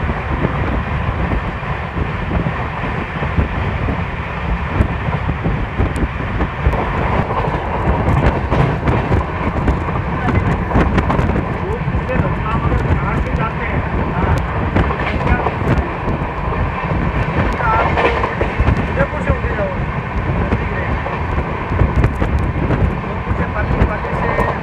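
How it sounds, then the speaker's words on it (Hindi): The 14801 Jodhpur–Indore express runs at speed through the Aravalli hills just after leaving Haripur, a steady loud rumble and roar with faint clicking from the wheels, heard from on board and lasting throughout. "हरिपुर से ट्रेन ने डिपार्चर लिया है"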